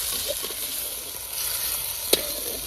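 Garlic fries and sizzles in a pan of oil, a steady hiss with soft stirring scrapes and one sharp clink, heard close without talk.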